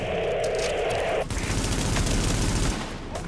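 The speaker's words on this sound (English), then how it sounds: "But who is shooting at me?" Rapid gunfire from The Division video game crackles in dense bursts, a sustained automatic volley that shifts to heavier, broader shots partway through, fairly loud and close with no voices over it.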